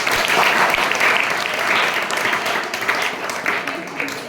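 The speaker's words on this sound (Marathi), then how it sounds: "टाळ्या वाजवा त्याच्यासाठी." Audience applause at a secondary school gathering, a steady, dense wash of many hands clapping close by that continues for about four seconds before easing slightly.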